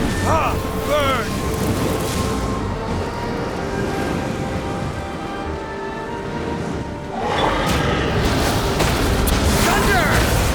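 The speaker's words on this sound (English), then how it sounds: "Thunder!" A thunder attack in the Genshin Impact game booms and rumbles through loud, dense battle effects, with a strong burst near the start and another surge toward the end, while in-game voices call out over it.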